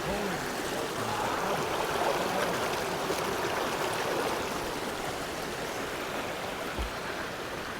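Rushing water pours steadily in a broad, constant roar from the Krka waterfalls in Croatia feeding a flowing stream, with no clear voices above it.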